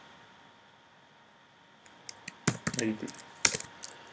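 Someone types code on a computer keyboard in short quick clusters of key clicks after a quiet stretch, close and fairly soft, with a single word spoken briefly.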